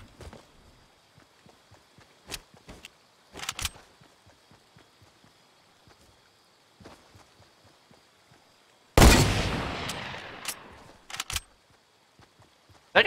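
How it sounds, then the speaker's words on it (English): Video game gunfire cracks out in sparse single shots over a quiet stretch, then one loud close blast around nine seconds with a long rumbling decay, followed by a few more sharp shots. "That guy shooting at me?"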